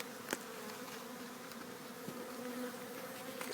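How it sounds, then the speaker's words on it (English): Honey bees from a package swarm buzz steadily at close range while being installed into a hive, a dense continuous hum with occasional louder individual bees passing near. "she's drawing in the bees that were in the package with her"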